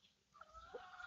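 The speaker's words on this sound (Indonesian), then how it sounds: "kasih makan ayam" Chickens clucking while being fed at a poultry house, a few short clucks close by over a faint, quiet background.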